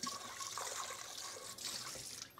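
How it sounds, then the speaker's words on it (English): Tap water running into and rinsing out a KitchenAid stand mixer bowl in a kitchen sink, a steady close splashing hiss with a few brief sloshes. "I'm just gonna rinse out this KitchenAid."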